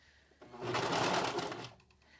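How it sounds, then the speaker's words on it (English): A serger sewing machine stitches flannel in a short, steady burst of rapid mechanical whirring that starts up, runs about a second, and stops, close and fairly quiet with no talking. "I'm just going to take a few stitches down this end, being careful not to cut my stitches with my blade"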